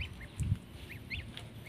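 Young goslings peep softly in short, high calls while eating bran, with a low muffled thump among them over a quiet background.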